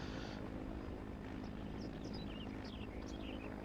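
A helicopter in the video game ARMA, a steady rotor and engine drone holding close and constant throughout, with faint higher chirping tones scattered over it.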